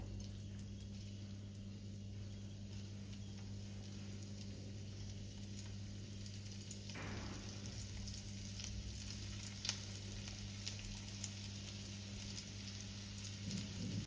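Kebabs shallow-frying in white oil with a little butter, a faint, steady sizzle running under a low constant hum, with a brief scrape partway through and no voices.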